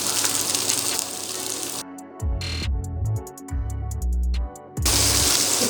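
Chopped onions and tomatoes sauté in hot oil with popped mustard seeds for sambar rice. A steady hiss and sizzle opens and closes the passage, with a quieter, clattering stretch between.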